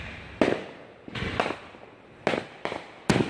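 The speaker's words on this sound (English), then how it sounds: "I was sitting right next to the fireworks that were going off." Fireworks burst over Baltimore on a July 4th night near trees: five sharp, booming explosions arrive at irregular intervals, each loud and close with a short rumbling decay, and no voices are heard.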